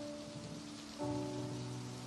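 Steady rain falls in a film scene, a dense constant hiss of drops on surfaces that grows slightly heavier partway through, with a low tonal hum underneath and no voices.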